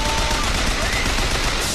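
Machine gun fire in Bioshock Infinite, a dense continuous burst of rapid shots that fills the whole moment loudly, with no pause between rounds.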